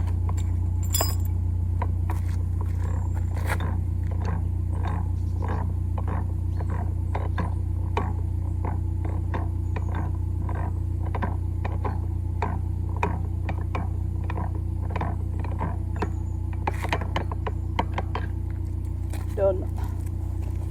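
A canal lock paddle on the Stockton Flight being wound down, its ratchet pawl clicking in a steady, even rhythm for the whole stretch, close and distinct over a constant low engine-like drone.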